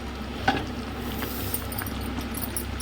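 A ladle gently stirs Andhra-style fish curry in a pot, with soft scraping and bubbling over a low simmer, plus one brief clink near the start.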